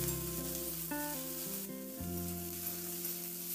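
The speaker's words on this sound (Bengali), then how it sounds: "এরপর আলু আর ফুলকপিটা 2-3 মিনিট নাড়াচাড়া করে একটু ভেজে নেব।" Small cauliflower florets and potato fry in a pan while being stirred, giving a soft, steady sizzle at low volume with faint tonal sounds in the background.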